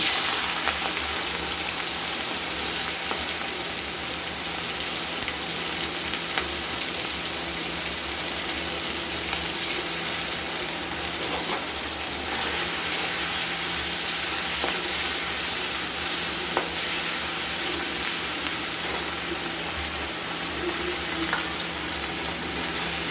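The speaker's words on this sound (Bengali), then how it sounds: "এবার ওই তেলে দিয়ে দেবো আমরা চিংড়ি মাছ চিংড়ি মাছটাকেও আমরা একটু ভেজে নেব" Prawns fry in hot oil with a steady, dense sizzle that stays loud and even throughout, broken by occasional faint clinks of a utensil in the pan.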